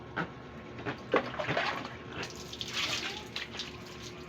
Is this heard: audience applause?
no